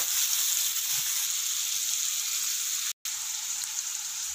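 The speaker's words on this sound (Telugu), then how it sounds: "ఆనియన్, ఆనియన్స్ వేగాలంటే కొంచెం ఉప్పు వేసుకోండి," Onions frying with a pinch of salt in a pan, a continuous hissing sizzle at moderate level, close by, with a couple of faint stirring taps and a brief dropout near the end, no talking.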